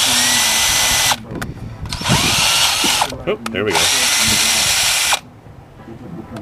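A cordless lithium-ion drill whirs loudly in two bursts of about two seconds each, split by a short pause with clatter and handling noise, while a person speaks briefly.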